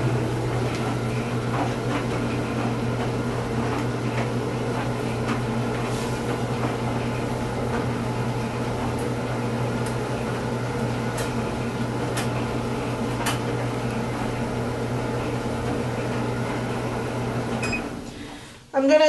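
A Haier HLP141E portable electric clothes dryer runs unvented indoors with a steady, loud mechanical hum and low drone that holds evenly for about eighteen seconds before a brief clatter at the end.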